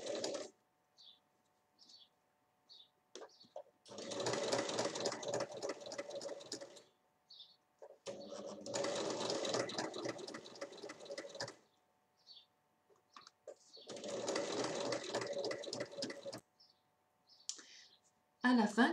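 A domestic sewing machine stitches bias binding onto a terry cloth beach towel, running in three steady bursts of a few seconds each with quiet pauses and small clicks between, close and fairly loud.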